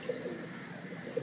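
Pigeons coo softly on a rooftop loft, a few short low calls spaced across a moment against steady outdoor background noise.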